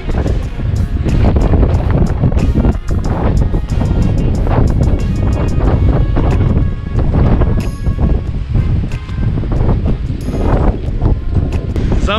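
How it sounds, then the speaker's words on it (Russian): Strong wind roaring across the microphone at an exposed Irish dolmen site, a loud steady rumble with gusts that lasts the whole stretch. "да и сильный ветер"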